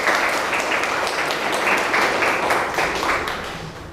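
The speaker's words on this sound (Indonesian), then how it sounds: "tepuk tangan untuk kelompok 3" Students applaud group 3 in a junior secondary school mathematics classroom, a loud, dense burst of hand-clapping that holds steady and then begins to fade toward the end.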